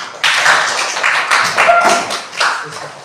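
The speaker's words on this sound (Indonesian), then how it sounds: "tepuk tangan untuk Rahel" A school class claps for a student named Rahel in a classroom, a close, loud burst of hand claps in uneven waves over about three seconds.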